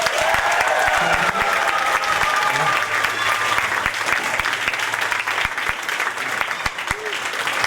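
Loud, sustained audience applause and cheering fill a school battle of the bands event, a dense steady clatter of clapping with crowd noise throughout.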